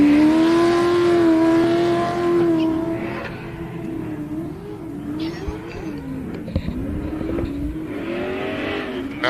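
A Ford Ranger pace truck runs on the Glen Helen Raceway short-course track, its engine a steady drone that rises and falls with revs, heard at moderate distance throughout.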